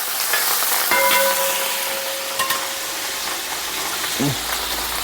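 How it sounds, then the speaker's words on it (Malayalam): Ginger dropped into hot oil with mustard seeds for cauliflower pickle, a loud continuous sizzle and crackle with scattered pops and a spoon clink, heard up close. "കടുക് പൊട്ടിക്കഴിഞ്ഞാൽ അതിനകത്തേക്ക് ഇഞ്ചി ഇട്ട് കൊടുക്കാം"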